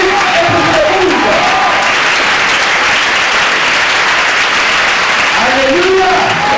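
A convention crowd applauds and cheers loudly and continuously, a dense roar of clapping throughout, with voices rising over it at the start and end.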